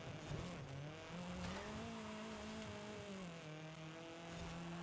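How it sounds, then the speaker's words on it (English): A 1985 Toyota Trueno's turbocharged engine running with a rising and falling tonal turbo whistle between gear shifts, fairly faint and steady throughout. "listening to this turbo whistle is fun"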